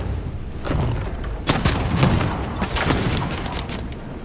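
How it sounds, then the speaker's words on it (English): Revolver gunfire in the Bloodhunt battle royale game: several sharp booming shots at uneven intervals, the loudest near the middle, over a steady background rumble. "Oh my god, I love this revolver."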